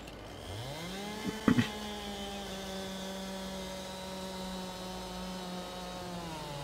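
A chainsaw in Farming Simulator 22 runs at a steady harmonic drone while cutting wood, with a brief rise in pitch and a couple of sharp cracks early on before settling into an even, sustained buzz.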